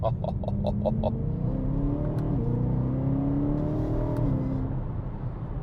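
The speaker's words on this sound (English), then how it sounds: "Sounds so good from the outside as well, through that titanium exhaust." A BMW E92 M3 GTS revs through its titanium exhaust, heard from outside as the engine climbs and drops through several rising pulls, bright and moderately distant, with no voices.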